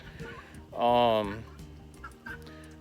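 A guinea fowl on a small farm lets out a single loud, harsh call lasting about half a second, with softer clucks and rustling around it.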